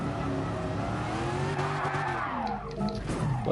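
A car drifts in Gran Turismo Sport with a sustained, loud tire squeal over a steady engine drone, the pitch swooping up and down as the car slides sideways. No one talks.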